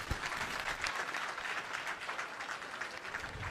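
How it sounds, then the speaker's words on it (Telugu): An audience at a spiritual talk applauds, a dense, sustained clapping that holds steady throughout without voices rising above it. "మీకు మీరే చప్పట్లు కొట్టారు."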